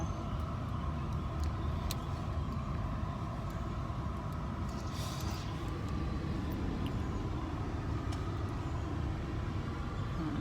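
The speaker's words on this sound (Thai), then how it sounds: "ซอยนี้รถจะติดตลอดเลยไม่รู้เป็นไรคะ" Road traffic crawls through a congested side street: a steady low engine rumble and idling vehicles close by, with occasional faint clicks and a brief hiss of brakes.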